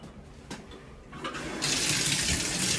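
Water running from a bathroom shower diverter valve in a hall bathroom, starting with a few faint knocks before a steady, loud rush of flowing water that continues alone.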